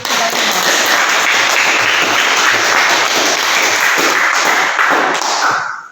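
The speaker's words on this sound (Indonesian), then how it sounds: "Mari kita beri tepuk tangan untuk kita semua" A crowd claps loudly and continuously for several seconds, dense applause that fades out abruptly at the end.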